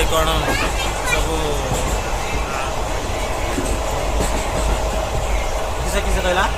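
A local passenger train on the line near Khordha, bound for Puri, runs steadily on its rails with continuous rumble and rhythmic wheel clatter close by, while passengers chatter and talk throughout.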